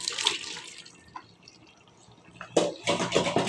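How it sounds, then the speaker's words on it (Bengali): Chicken pours into a pot of partly cooked rice with wet, sloshing, splattering bursts, first a quick splash, then quieter drips, then a heavier, longer pour toward the end. "চিকেনটা এর ভিতরে আমি ঢেলে দিলাম"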